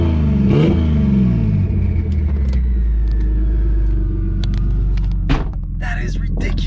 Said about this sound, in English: The turbo spool is so freaking loud.